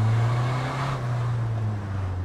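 A Renault Clio engine revs in third gear, a steady low drone that swells briefly and then settles, close and alone with no voices over it.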